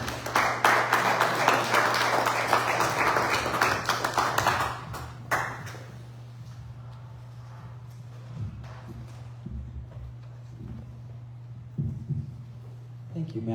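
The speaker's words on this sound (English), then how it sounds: "Let's give them a big hand of applause." Audience applause at a church fellowship service, a few seconds of dense clapping over a steady hum that thins out to scattered claps and faint taps in a quieter room.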